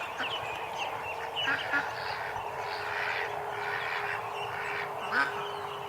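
Ducks and small ducklings quacking in a grassy yard, a steady mix of soft, overlapping calls and chirps at moderate distance with a few louder quacks.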